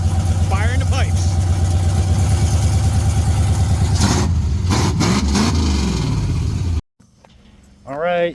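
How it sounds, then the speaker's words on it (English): A 1964 GMC truck engine runs loudly and roughly close by, rumbling steadily with revs rising and falling before it cuts out abruptly, and a voice comes in afterward. "Day 4 of the truck with Chris helping with the wiring, and it runs"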